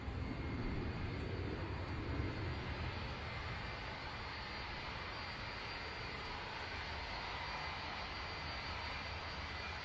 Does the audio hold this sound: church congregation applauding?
no